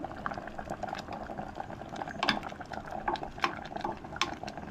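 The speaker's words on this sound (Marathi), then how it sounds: "खतखता येता पळय" Goan-style dal tadka boiling in a pot, with a steady, close bubbling and popping texture and small sharp bursts throughout, no voices.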